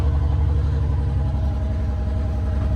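A salvaged machine pulled from the Jade Mines runs roughly, its engine chugging with a steady low rhythmic pulse, close and loud throughout with no talk over it.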